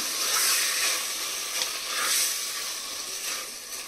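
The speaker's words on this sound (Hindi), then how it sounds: "ये मैंने तीन मीडियम साइज़ के आलू लिए हैं आलू को थोड़ा सा भूनेंगे" Three medium-sized potatoes frying in a pan give a steady, fairly loud broadband sizzle that swells and eases in waves, with no voices over it.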